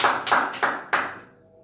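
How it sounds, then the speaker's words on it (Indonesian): A congregation claps in unison in a church, with four loud, evenly spaced bursts of hand claps that then fade away, and no talking. "Tepuk tangan semua bagi Tuhan."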